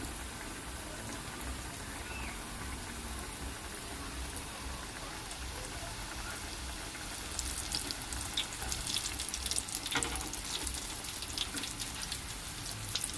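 Steady crackling sizzle of chicken frying in hot oil, continuous and close, growing a bit louder and busier partway through.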